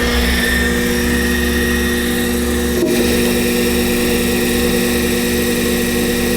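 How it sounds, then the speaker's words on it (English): The DC spindle of a D&M4 CNC mill running at about 2,000 RPM gives a loud, steady motor hum with tonal whine and a constant low rumble, close-up and uninterrupted, no talking. "That should turn the spindle on when I hit cycle start."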